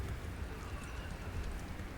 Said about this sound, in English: There's hail on my screen.